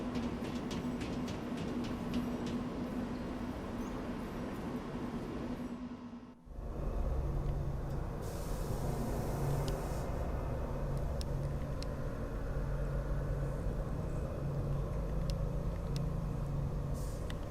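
A train rolls along in the Lost Odyssey video game, a steady low rumble and mechanical drone that cuts out abruptly, then resumes as a heavier, continuous rolling noise with faint clanks and high metallic ringing.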